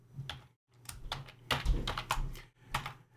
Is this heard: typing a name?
yes